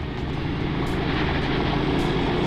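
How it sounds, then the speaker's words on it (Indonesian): Steady, loud exhaust drone from a 2011 Honda Tiger Revo single-cylinder motorcycle, a continuous deep, rounded rumble held throughout with no talking. "bisa denger sendiri kan suaranya, suara knalpotnya itu gimana, kayak ngeblar ngebas bulet gitu"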